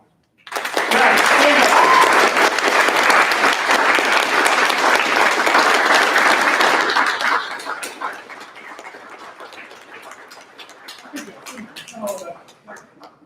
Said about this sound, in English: I would like to ask for a round of applause as a thank you and good luck to the graduating band students of 2021